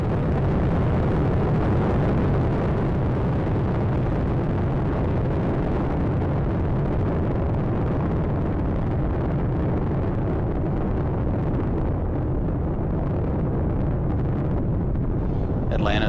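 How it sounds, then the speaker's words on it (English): The three main engines of the Space Shuttle Atlantis roar without a break during launch, a loud, dense rumble heard throughout with no letup. "all three engines now throttling down"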